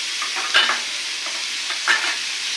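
Food sizzles and fries steadily in a pan on a stove over a high flame, with a continuous bright crackle and two brief louder stirring scrapes.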